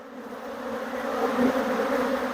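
Honey bees buzz around an outer hive frame at a farm apiary, a close, loud, steady droning hum that swells slightly and never lets up, with no talk.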